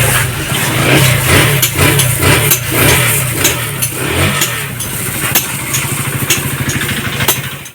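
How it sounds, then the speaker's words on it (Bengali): Motorcycle engine with engine flush added, running close and loud, first a pulsing rev then settling into a steady rapid idle chug. "চলো আমরা এখন বাইকটা স্টার্ট দিয়ে নিই"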